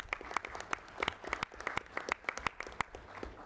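Sparse applause at a municipal council meeting for a newly installed councillor, a few people clapping distinctly with irregular sharp claps, fairly quiet and close.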